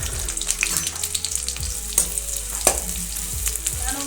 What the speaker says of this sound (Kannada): ಮೊದಲು ಮಸಾಲೆ ಫ್ರೈ ಮಾಡ್ಕೋಬೇಕು.